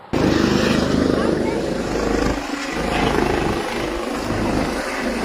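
Helicopter on a trial flight over a crowded field with spectators, its engine and rotor giving a loud, steady drone that runs continuously and swells slightly toward the end.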